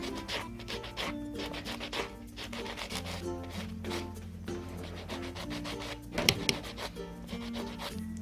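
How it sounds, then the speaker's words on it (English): Quick, repetitive rasping strokes of a buffing block filing a natural fingernail, soft and close, with steady rhythmic friction over low background music. "I'm just going to go in with a buffing block and I'm just going to file that natural nail"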